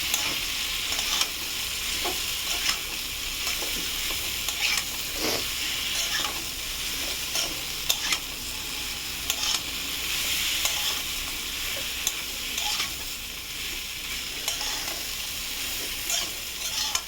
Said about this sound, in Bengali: এবার আমি এই মাছ ভাজাগুলো দিয়ে আবারও কষবো এটাকে ভালো করে